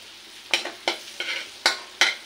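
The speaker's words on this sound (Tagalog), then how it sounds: "ang ating igisa natin ang ating shrimp" Shrimp sautéing in butter with plenty of garlic, heard as a low sizzle under five or six brisk scraping stir strokes spaced roughly evenly.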